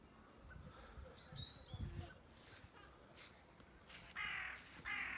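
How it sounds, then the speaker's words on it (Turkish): Crows cawing outdoors in a German springtime garden near an apple tree, a few harsh calls spread across the moment amid light background noise and rustling, fairly distant. "Karga."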